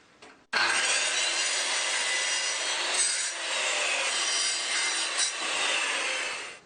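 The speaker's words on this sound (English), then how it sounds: "these two pieces of wood glued together is actually my cross-cutting jig for the circular saw" A circular saw rips through wood guided along a homemade cross-cutting jig of two glued boards, starting abruptly and roaring loud and steady for about six seconds before winding down.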